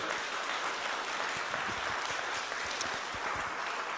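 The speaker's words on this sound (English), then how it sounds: "give a big round of applause to them" Audience applause for a conference panel on healthy lifestyle challenges, a steady dense wash of many hands clapping throughout at moderate, fairly distant level, with no talk.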